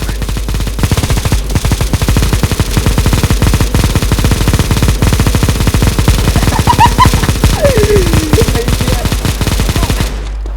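Rapid machine gun fire in the shooter game CS:GO, a long unbroken burst of loud, closely spaced shots rattling for about ten seconds before cutting off abruptly.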